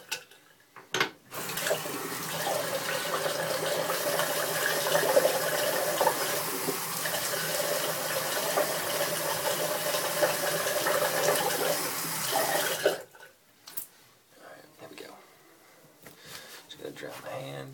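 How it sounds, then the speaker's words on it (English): A bathroom tap runs in a steady, fairly loud stream for about twelve seconds while a face is rinsed of shaving lather, then cuts off, leaving a few quieter splashes and handling noises. "I'm going to wash off my face, re-lather up real quick"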